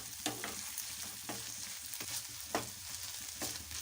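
Ginger paste and onion fry in hot oil in a pan, giving a steady, faint sizzle with a few sharp spatula strokes and stirring scrapes spaced through it, close with no voices.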